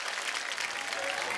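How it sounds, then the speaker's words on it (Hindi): Studio audience applause welcoming actress Neha Dhupia onto The Kapil Sharma Show, a dense, even wash of clapping heard alone for a brief moment. "आप सबकी जोरदार तालियों के बीच please welcome the very beautiful Neha"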